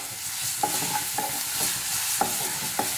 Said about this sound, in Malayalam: വെളുത്തുള്ളി ചതച്ചത് ഒരു ടേബിൾ സ്പൂൺ ചേർത്ത് കൊടുക്കാം അതോടൊപ്പം ഇഞ്ചി ചതച്ചത് ഒരു ടേബിൾ സ്പൂൺ ചേർത്ത് കൊടുക്കാം നന്നായിട്ടൊന്ന് ഇളക്കി കൊടുക്കാം